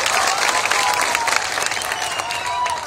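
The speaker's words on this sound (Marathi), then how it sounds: "अशा सचिन कांबळेसाठी सगळ्यांनी जोरदार टाळ्या वाजवल्या पाहिजे" Applause for Sachin Kamble at a political gathering, a dense crowd clapping steadily with a faint cheer mixed in, loud and sustained to the end.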